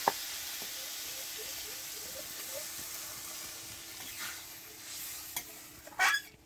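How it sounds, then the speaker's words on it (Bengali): Water poured into a hot frying pan for egg pasta in a village kitchen sizzles with a steady bright hiss, soft scraping underneath and a sharp crackling burst toward the end. "এবার তো জলটা ঢেলে দেবো।"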